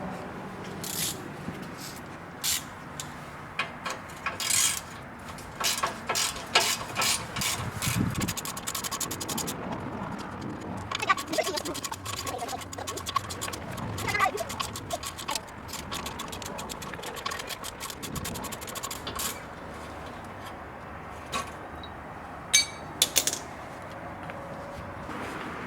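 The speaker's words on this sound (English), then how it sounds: "we're going to be using a 15mm socket to remove the U-bolts" A 15 mm socket wrench ratcheting off tailpipe U-bolts under a Pontiac Fiero, bursts of rapid clicking ratchet strokes with scraping metal handling between them, close and fairly quiet, no talking.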